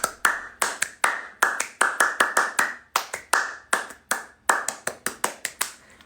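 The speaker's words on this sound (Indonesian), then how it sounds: "Tepuk pramuka kali ah." Scout-style rhythmic hand clapping, crisp close claps in repeated patterned bursts with short pauses between groups, loud and alone with no talk.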